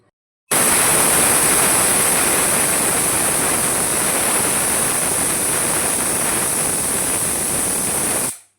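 A loud, steady pressure cooker whistle with a rushing hiss of steam, cooking mushroom pulao, starts suddenly, holds for about eight seconds, then cuts off.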